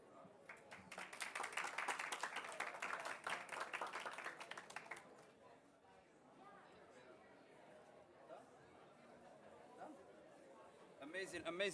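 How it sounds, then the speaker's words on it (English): Audience at a COP28 children and youth event breaks into clapping and applause for several seconds, then dies down to quieter chatter and murmuring, with a fresh burst of clapping rising at the very end. "Give them a round of applause again."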